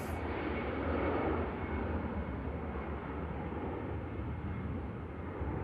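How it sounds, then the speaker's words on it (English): At Manchester Airport, an aircraft heading back to Dublin produces a continuous distant jet roar, broad and steady, slightly louder at the start and then holding level. "Aircraft heading back on the return leg to Dublin."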